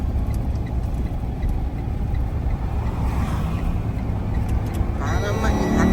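A noisy delivery truck being driven toward Ottawa, Ontario, giving a steady, loud low rumble of engine and road noise throughout that stays constant with little change in pitch.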